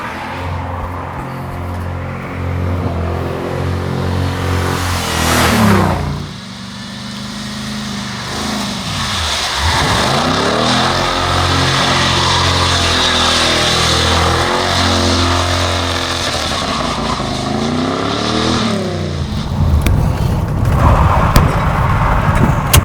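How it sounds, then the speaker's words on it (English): A loud American V8 engine in a Pontiac revs repeatedly in wet weather, rising and falling in pitch, then a deep rumble and a final burst of throttle; no talking. "demonstrate what these lovely American V8s can do in typically bad British weather"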